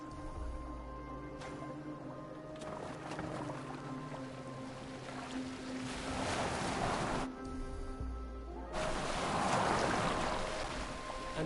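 Boat gliding over water in Assassin's Creed Valhalla, with a steady wash of waves and water rushing against the hull that swells louder in surges midway and toward the end, with no talk.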